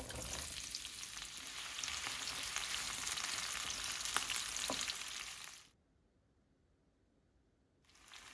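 Onions sizzle and crackle steadily in hot oil in a pan for several seconds, cut off briefly to silence, then the frying hiss returns.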